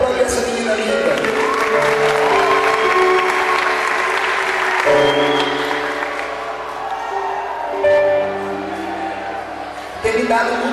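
An audience at a Catholic worship event applauds steadily throughout while people talk over it and music plays in the background.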